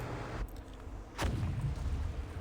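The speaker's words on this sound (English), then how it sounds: "Sounds like some kind of explosion near the clinic." An explosion sound effect near a clinic in the video game Reverse 1999 gives one dull boom over low background ambience, followed by a lingering rumble.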